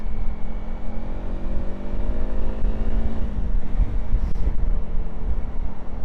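A Honda CRF300 Rally motorcycle rides through traffic, its steady engine drone and rising gear tones running continuously under buffeting wind noise, with no talking.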